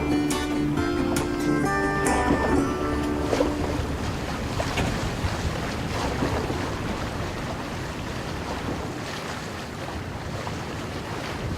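The sail vessel Elizabeth moving through the sea near Greenland, with loud continuous wash of water and wind buffeting the microphone, plus some clanking rigging early on and no talking.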